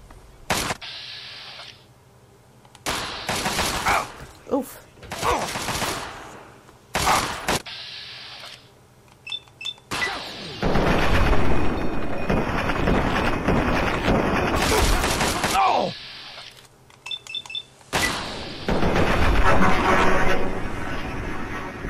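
Gunfire in the video game Fallout 3, with an enemy's own weapon turned against them. It comes as loud bursts of shots separated by short pauses, with longer sustained volleys later.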